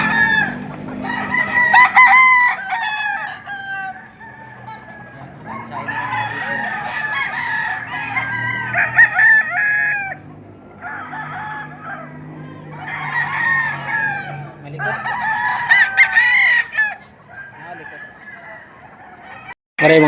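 Roosters crow repeatedly, close and loud, over steady clucking from many chickens at a morning poultry market in Padre Garcia, Batangas. Faint talk sits in the background.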